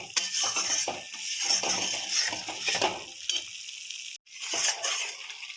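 Spices fry in oil in a pan for potol posto, a steady sizzle broken by repeated scraping and clattering stirs of a spoon against the pan, with a brief silent gap near the end.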